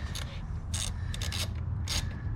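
A wrench loosening a nut under the hood of a Fiat 124 Spider: several short ratcheting clicks and metallic rasps in uneven bursts, close and fairly quiet with no talk.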